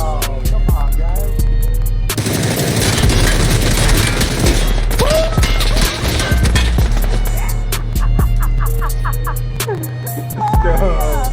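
Rocket launch and gunfire in a battle-royale shooter game, with a burst of loud blasts and rapid shots over a steady rumble, followed by scattered shots and clanks, while players talk over the action.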